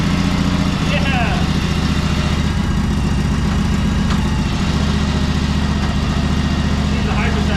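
The petrol engine of a used hydrostatic riding lawnmower idles with a loud, steady, low droning throb close by, and people talk faintly over it.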